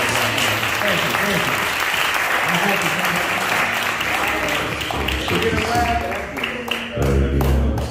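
Congregation in a church applauds, loud continuous clapping from a crowd with voices mixed in, shifting to a heavier low thump toward the end.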